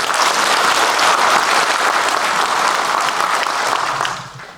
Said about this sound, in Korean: 다시 한번 큰 격려의 박수를 부탁드리겠습니다